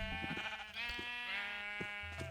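Minecraft sheep bleating in close succession, a few wavering, nasal bleats stacked near each other, loud and clear with no talk over them.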